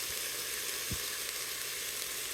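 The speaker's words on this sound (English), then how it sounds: "It'll be touching in the bottom so it can saute." Nearly cooked ground meat sautés in the bottom of an Instant Pot, giving a faint, steady sizzle broken by one low thump.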